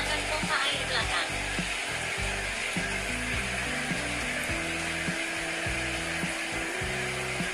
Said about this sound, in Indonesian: Oke, menyalakan pompa air belakang.